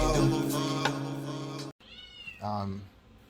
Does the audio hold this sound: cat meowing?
yes